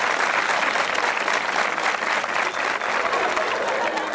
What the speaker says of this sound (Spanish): ¿qué tal si me regalan un aplauso de estímulo para incentivarme?